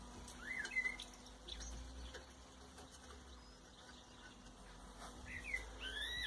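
A blackbird chirps in the background outdoors, with a few faint, brief calls scattered over a quiet steady hum.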